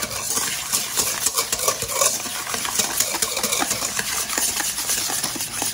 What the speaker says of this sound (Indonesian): Ini kita aduk-aduk sampai gulanya larut.